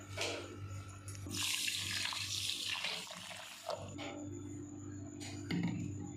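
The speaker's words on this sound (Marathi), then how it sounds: "चला आता आपण सुरुवातीला भगर धुवून स्वच्छ शिजवायला ठेवायचा आहे" Tap water runs into a bowl while barnyard millet (bhagar) is rinsed by hand. A close, splashing gush starts and stops a few times against a quiet kitchen background.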